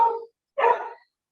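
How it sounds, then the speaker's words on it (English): A dog barks twice in close succession, two short mid-pitched barks indoors with a brief pause between them. "my dog's barking"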